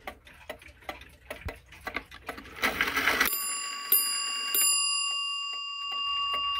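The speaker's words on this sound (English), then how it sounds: "It's a very loud ticker." A 30-hour Wm. L. Gilbert mechanical kitchen clock ticks steadily and loudly up close, then its bell rings out sharply and its metallic tone lingers.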